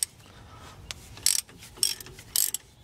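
A wrench working a bolt to loosen the alternator belt on a John Deere 450: three sharp, close metallic clicks at even spacing over faint background noise.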